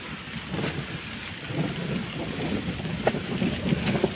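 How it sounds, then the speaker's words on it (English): Soft rain patters steadily at a riverside outdoor cooking spot, with scattered drops landing close by, over a low background rumble. "Actually, it is raining. You can see the rain over here."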